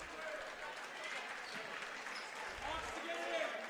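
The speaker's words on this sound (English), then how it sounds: "Jackson gets a nice round of applause" Applause from a high school basketball gym crowd on senior night, a steady wash of clapping and cheering that holds fairly level throughout and swells slightly toward the end.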